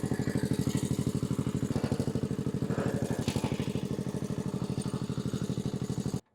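A walk-behind tractor converted into a ride-on machine drives along with its small engine chugging steadily and loudly up close, a fast even pulse throughout that cuts off abruptly at the end.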